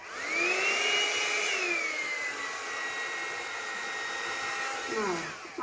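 A hair dryer blows white acrylic paint over a spin-bloom paint pour on a placemat, a loud, close, steady whine that rises at the start and winds down briefly near the end.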